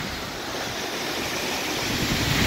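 Deadman waterfall, part of the North Fork of Deadman Falls, pours strongly in a steady, dense rushing roar that stays loud and even throughout, with no voices.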